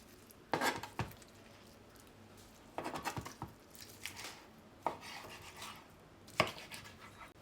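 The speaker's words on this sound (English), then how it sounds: "So I'm going to cut this into separate parts, and then we'll cut into more bite-sized pieces from there." A knife slices through a cooked Japanese tomahawk steak, dividing it into separate parts: a handful of sharp, close clicks and scrapes against a board, spaced in short bursts with quiet pauses between.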